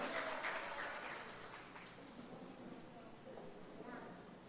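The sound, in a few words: congregation applauding Jesus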